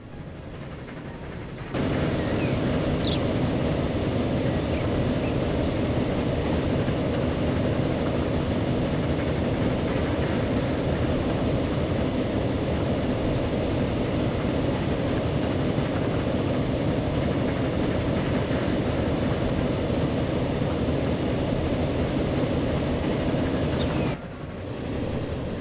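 Trains rumble through the Gotthard tunnel in the video game Transport Fever, a steady, loud low roar with rattling that holds for over twenty seconds before cutting off, with no talk.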